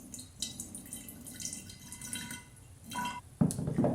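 Fermented water kefir trickles and drips gently from a small dish into a bottle, light liquid patter ending in a louder splash.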